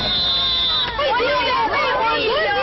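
Cheering crowd in a Turkish pipe advertisement, a dense babble of many voices with rising shouts, loud and continuous throughout, with a thin high tone fading out early on.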